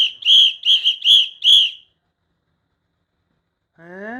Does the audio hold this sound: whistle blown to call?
yes